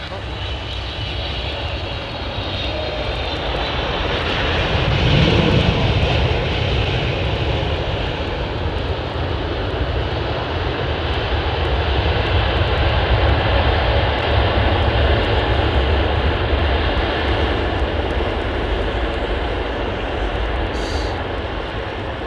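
An airliner roars on a wet runway with a loud, sustained jet engine wash that swells midway and holds, while someone talks intermittently beneath it.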